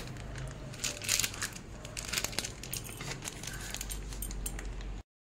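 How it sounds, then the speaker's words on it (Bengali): Gram flour is hand-mixed into a paste with spices for jackfruit and prawn kofta, producing close, squelching, crinkly rubbing sounds that come in irregular bursts with no talking. "এইগুলো দিয়ে ভালো করে এটাকে পেস্ট করে নেব"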